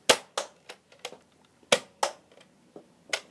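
A Nerf toy gun fires test shots: about nine sharp, dry snaps arrive in an irregular sequence, some loud and close and others softer, with near silence between them.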